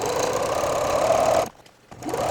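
A sewing machine runs steadily while stitching a quilt border along a fold line, its motor humming loud and close, then stopping for a moment before starting again.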